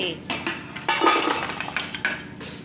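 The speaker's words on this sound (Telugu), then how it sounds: "బెల్లం అనేది ఇంకో గిన్నెలోకి నేను ట్రాన్స్ఫర్ చేసేసుకుంటున్నానండి" Jaggery being moved from one pot into another vessel in a home kitchen, with metal pots and utensils clinking and scraping in several sharp knocks, close and fairly loud.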